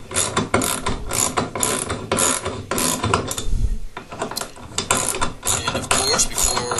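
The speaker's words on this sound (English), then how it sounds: "tighten the bolts so that it will compress the rubber ring together, causing a nice tight seal." A ratchet tightens bolts on a cast iron toilet flange with a rubber compression ring, giving rapid close clicking in repeated strokes and a short pause midway.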